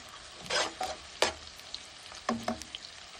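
Cumin, green chilli and onion going into hot oil for carrot rice, heard as short bursts of sizzling and stirring scrapes in a quiet pan, close and intermittent.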